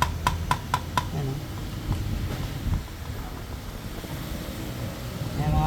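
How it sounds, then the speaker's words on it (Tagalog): A Yamaha Sniper 155 motorcycle with 87,000 km on it idles close by with a worn engine bearing, a continuous low mechanical rumble after a few sharp ticks at the start, with faint voices underneath. "yung engine bearing niya, yung pinakasasigon niya, ito sa right side, sobrang lakas ang kalog yan"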